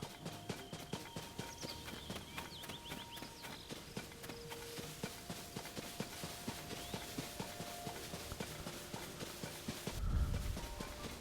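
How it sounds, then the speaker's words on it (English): Horses trotting in The Legend of Zelda: Tears of the Kingdom, a steady regular clip-clop of hooves continuing throughout, with soft game music tones layered underneath and a brief low thump near the end. "Hey, here's some horses over here."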